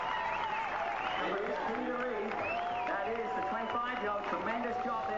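Spectators at the 1996 Ironman Canada triathlon in Penticton clap and cheer steadily for Canadian athlete Peter Reid, a dense wash of crowd noise with a commentator talking over it.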